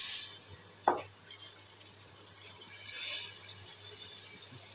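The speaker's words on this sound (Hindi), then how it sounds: "अच्छा, यहाँ पर हम दाल की भुनाई कर रहे हैं।" Moong and masoor dal roasting in a pan with coriander powder, a faint dry rustle and soft stirring scrape, with one brief clink of a utensil early on and a low hum beneath.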